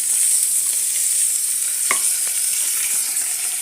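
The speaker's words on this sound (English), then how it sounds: "So the next step, you add your nyanya." Chopped tomatoes hit a pan of frying pork with onions and coriander stems, giving a loud, steady hiss of sizzling fat and a few faint scrapes of stirring, with no voices.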